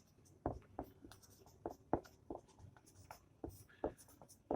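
Chalk writes a fraction on a classroom board in short, uneven taps and scratches, close and quiet, with a few strokes and brief pauses between them.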